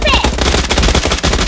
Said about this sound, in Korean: 총소리 좀 내봐